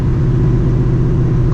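Supercharged 2V Mustang GT with a fully catless exhaust and a gutted interior, cruising at about 61 mph near 1900 RPM: a steady, loud low drone and rumble from inside the cabin, with no talking.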